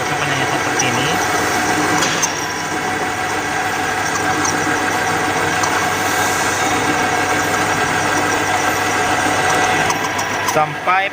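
A conventional metal lathe turning at 400 rpm while making a cut: a steady, close mechanical drone and hum with a few sharp ticks at the start and end.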